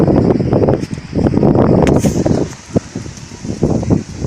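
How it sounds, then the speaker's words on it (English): Loud, gusty wind buffets the microphone in uneven bursts, rumbling and roaring then easing off, with no one speaking. "So there's some windy, too much wind is here."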